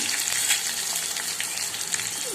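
Curry leaves and chillies hit hot oil with popped mustard seeds and cumin, giving a bright, steady hiss of frying that stays loud and close throughout.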